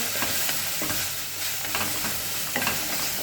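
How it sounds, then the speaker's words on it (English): Garlic and celery frying in a pan while being stirred, a close crackling sizzle with repeated scraping stir strokes at an irregular rhythm, no talking. "just stir them in well."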